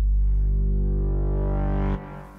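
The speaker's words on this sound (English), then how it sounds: "this time it's got a bit of digital distortion on it." Solo synth tone in Logic Pro X with digital distortion, a dense buzzy harmonic stack sustained loud for about two seconds, brightening as it swells, then cutting to a quieter tail.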